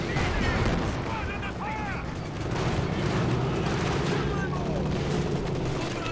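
Machine gun fire rattles in the strategy video game Company of Heroes 2, steady distant bursts under battle noise and someone talking over it.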